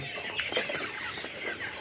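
Brahma chickens clucking on a poultry farm, a close, busy run of overlapping clucks and soft calls from several birds, with no speech.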